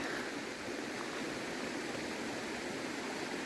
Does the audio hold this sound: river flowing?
yes